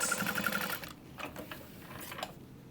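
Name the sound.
sewing machine top stitching a bag panel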